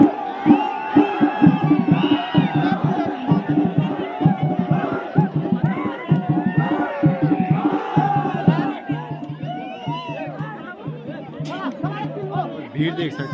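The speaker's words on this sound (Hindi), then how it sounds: "भीड़ देख सकते हैं आप लोग, इतनी ज़्यादा भीड़ हो रही है आज।" A large, dense festival crowd at a dhol-damau dance fair in the Pauri and Rudraprayag hills of Uttarakhand fills the air with close chatter, shouts and cheers that swell and overlap throughout.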